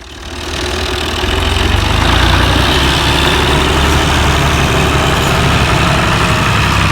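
A tractor engine pulls a fully loaded trolley out by a canal, its loud, steady heavy rumble building in the first second and then holding near and constant throughout.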